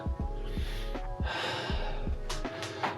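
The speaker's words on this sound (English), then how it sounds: "just breathing here" Steady, audible breathing from someone holding a hamstring stretch with legs raised during a dumbbell leg-day workout at home or in a gym, with repeated inhales and exhales close to the mic over a constant low hum.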